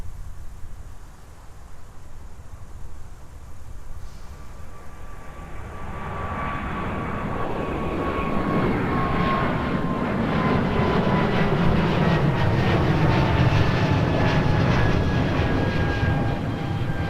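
A Delta jet departing runway 30 left at MSP airport on a muggy winter day: engine roar builds from faint to loud and sustained, with a rising whine, heard from a distance outdoors.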